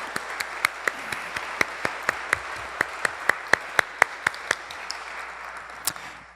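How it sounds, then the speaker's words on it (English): Church congregation gives brief applause for outgoing vestry members, a modest crowd clapping steadily with crisp, prominent individual hand claps in a regular rhythm, fading toward the end. "May we have a brief round of applause for all the vestry members who are stepping down at this"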